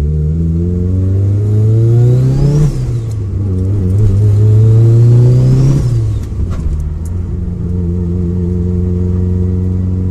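A Fiat Punto GT 1.4 turbo engine revs up and drops as gears shift, with whining rising and falling pitch, loud and close, steady throughout.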